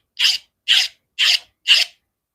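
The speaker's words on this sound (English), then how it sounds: "I'll sharpen the edge. I'm applying a slight micro bevel" Knife blade edge being sharpened with a slight micro bevel: four short, even raspy strokes of steel across an abrasive, close and distinct with clean silence between each pass.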